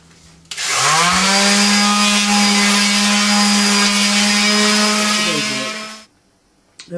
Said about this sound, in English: So we'll get the sander out and we'll have a go at these scales and smooth everything down